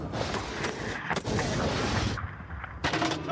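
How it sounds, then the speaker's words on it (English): A tank cannon fires during a three-round engagement, giving heavy, booming blasts separated by short gaps over a rumbling background. No one speaks during the firing. "He loads another 3 rounds, and then he'll carry out another 3-round engagement."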